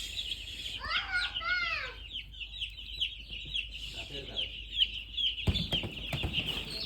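Broiler chickens in a poultry shed, a burst of close squawking and clucking early on, then a sustained high chirping chorus of many birds, with brief clattering near the end.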